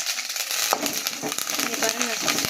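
Fennel, onion and curry leaves frying in a pan for a rooster curry, a loud, close, steady sizzle with some stirring, brief and continuous.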